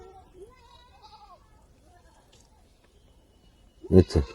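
A goat gives a loud, close bleat near the end, preceded by quiet talk and faint background sounds.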